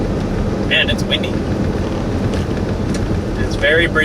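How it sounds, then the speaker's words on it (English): Strong, steady wind buffets the microphone outdoors while storm chasing under a shelf cloud, a continuous low roar filling the whole clip, with a few faint brief sounds breaking through near the start and end. "Man, it's windy."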